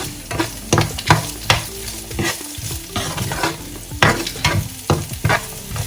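Red chilies frying in hot oil in a pan while chickpeas are cooked, with repeated stirring scrapes and clatters over a steady close sizzle, loud and continuous with no talk.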